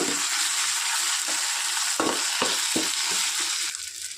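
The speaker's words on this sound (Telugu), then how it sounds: "ఇప్పుడు ఇది పచ్చి వాసన పోయేంత వరకు బాగా ఫ్రై చేసుకోవాలి" Ginger garlic paste fries in a hot pan, sizzling steadily while a spoon stirs and scrapes it in several short strokes, close up with no voices.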